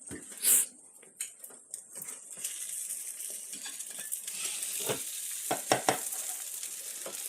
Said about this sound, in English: let our egg cook and harden up